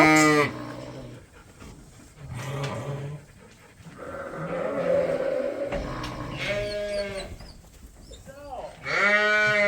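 A mob of sheep and rams bleats loudly and close by, with calls every few seconds and quieter bleats in between from farther back in the flock.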